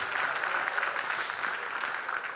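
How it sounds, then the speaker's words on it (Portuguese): Congregation at a Sunday church service clapping in praise, a steady wash of hand claps at moderate distance with no talk over it. "Leva o Senhor com as suas palmas, porque Ele é digno."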